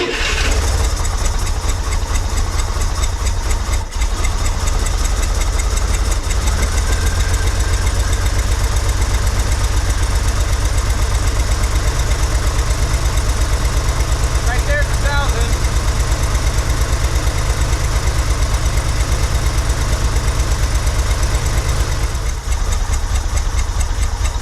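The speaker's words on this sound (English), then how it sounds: "That's not going to be enough for fast idle." A 1963 Corvair engine idles steadily at close range for the whole stretch, with a low, even rumble, some uneven pulsing and a brief clatter partway through, and a person's voice intermittently underneath.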